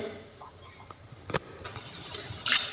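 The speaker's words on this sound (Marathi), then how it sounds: "याच्यात थोडंसं पाणी टाकलं, जसं तुम्हाला जेवढं लागेल तेवढं" Water poured into a pan of browned boiled mutton and black-masala gravy, a brief splash then a steady, close gush of pouring liquid lasting over a second.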